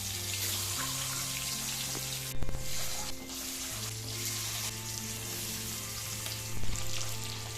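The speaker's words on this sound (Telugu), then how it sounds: "మనం ఆయిల్ ఇలా గుడ్లు వేసినప్పుడు ఇలా కలుపుతూ ఉండండి. అప్పుడు అన్ని వైపులు కూడా మనకి గుడ్డ అనేది ఫ్రై అవుతుంది." Eggs frying in oil in a pan for a curry with raw prawns, sizzling steadily and loudly throughout, with a few brief clatters as they are stirred. No one speaks.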